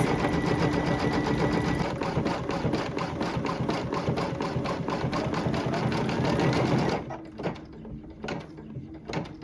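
An embroidery machine stitches a bean-stitch appliqué leaf onto background fabric with a rapid, steady mechanical chatter for about seven seconds. It then stops, leaving only faint, sparse handling noises.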